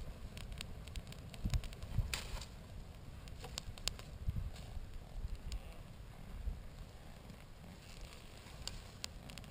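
Campfire being built on an enduro trip in Romania, crackling and hissing softly with scattered sharp pops over a steady low rumble, faint and continuous, with no talk.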